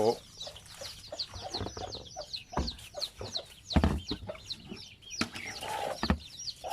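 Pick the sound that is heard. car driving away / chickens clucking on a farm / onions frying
chickens clucking on a farm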